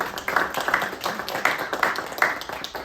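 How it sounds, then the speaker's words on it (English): An audience at a Global Citizenship Workshop Q&A claps steadily throughout, a dense run of close, crisp hand claps with a faint murmur of voices underneath. "In Asia, we always clap each other"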